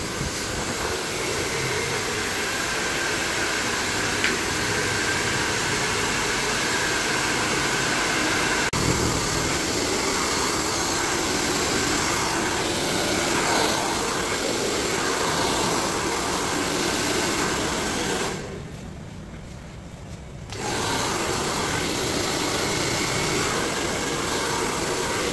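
A hair blow dryer runs continuously while straightening hair, a loud steady roaring whoosh that briefly dips quieter for a couple of seconds before returning to full strength.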